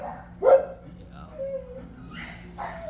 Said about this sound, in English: You seem so big because you were barking.